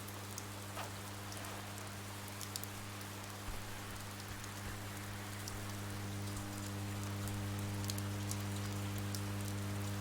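Steady rainstorm from the video game Oxenfree, a dense continuous patter of rain on surfaces with a low constant hum underneath, holding even throughout with no talk.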